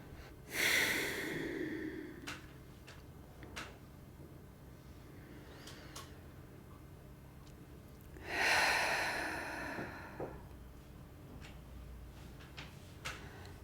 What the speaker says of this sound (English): begin by taking a nice few deep breaths